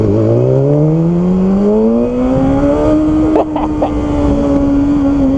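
A BMW S1000RR sport bike accelerates hard on a launch, the front wheel lifting, its engine note climbing steadily in pitch as it revs loud and close, with brief gear-change blips near the end.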